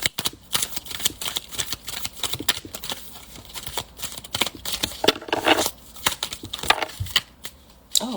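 A deck of cards is shuffled and cards are pulled out, producing close, rapid riffling and flicking with soft slaps, alone without talk.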